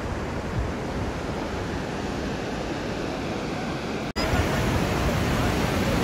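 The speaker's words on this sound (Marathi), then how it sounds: "ही आहे सरस्वती नदी" The Saraswati river rushes past at Badrinath in the Himalayas, a constant loud roar of flowing water with wind buffeting the microphone and one brief dropout partway through.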